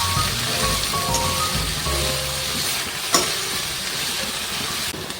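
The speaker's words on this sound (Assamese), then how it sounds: "এতিয়া মই কাটি লোৱা খুতৰীয়া শাককেইডাল দি দিলোঁ। দি পেলাই এয়া লৰাই দিছোঁ।" Chopped khutura greens stirred into jackfruit seeds frying in a pan, a loud continuous sizzle and crackle with scraping stirs and a sharp clink near the middle.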